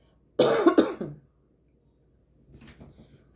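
A single burst of two or three sharp coughs up close, followed by silence and a faint murmur of voice.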